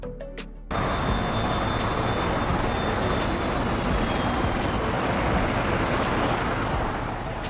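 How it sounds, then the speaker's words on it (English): Airbus A380 double-decker passenger jet engines roar as a loud, steady, broad rush that starts abruptly after a brief quiet moment and holds constant, with a faint high whine over it. "Airbus A380, the world's largest passenger plane."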